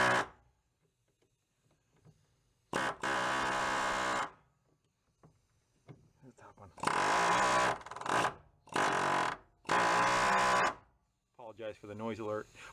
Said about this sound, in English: it's the same idea with the air hammer. Does the same thing, but it gives you just that much more control.